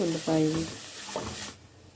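Two green chillies sizzle in hot oil in a pan, with a short burst of frying and a quick stir that scrapes and fades out within two seconds.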